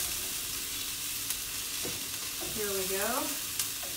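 Food fries in a non-stick pan, burning slightly, with a steady loud sizzle throughout and a brief voice speaking over it near the end.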